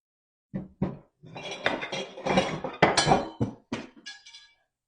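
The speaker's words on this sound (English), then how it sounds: "that is the sound of a knife falling" A knife clatters onto a hard surface with a burst of metallic clinks and rattles, bouncing several times before settling with faint ringing.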